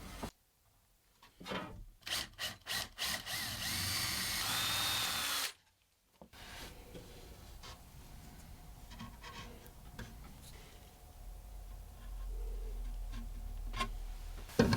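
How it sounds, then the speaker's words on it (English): A power drill whirs in short bursts, then a longer steady run, followed by quieter rubbing and handling noises close by. "so I can get a hole drill for this and get it glued in place"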